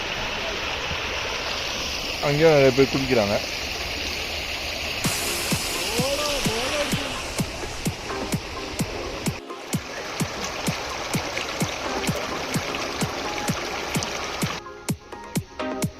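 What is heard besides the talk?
shallow river water flowing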